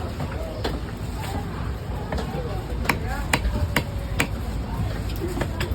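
Red snapper being chopped at Kasimedu fish market, with a series of sharp cleaver knocks scattered irregularly over busy market chatter, voices and background clatter.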